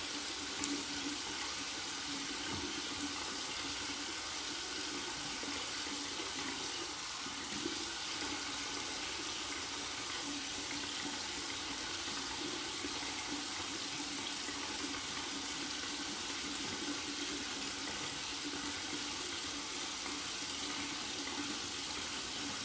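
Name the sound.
cold tap water running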